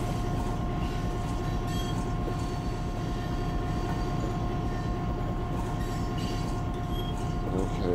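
A loaded coal train about 1.5 miles long, pulling 54 coal hoppers, rolls past with a steady, heavy rumble and rhythmic wheel clatter that keeps going the whole time.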